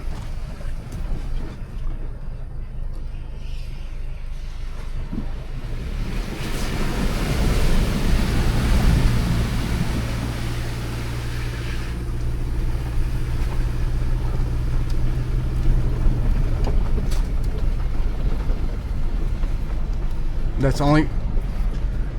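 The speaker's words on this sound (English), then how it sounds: "We're going to cross the creek crossing right now." A Chevy Colorado Trail Boss pickup's engine rumbles as rushing, splashing creek water swells around it, then fades back to a steady drive with wind buffeting the microphone.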